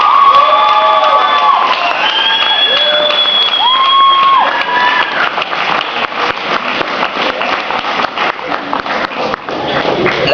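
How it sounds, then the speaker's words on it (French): An audience at a poetry event at an adult education centre breaks into loud, sustained clapping and cheering, with several whistles and whoops rising over the applause before it tapers off. "Alors, un bon applaudissement pour tous ceux et celles qui sont à l'Escale,"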